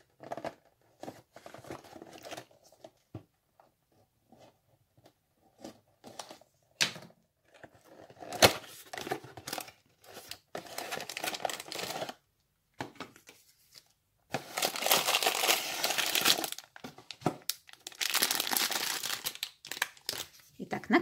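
Beyblade Burst spinning-top toy packaging is unpacked with bursts of crinkling plastic, tearing and rustling that come in irregular clusters, loudest in the second half, with a person talking quietly between them.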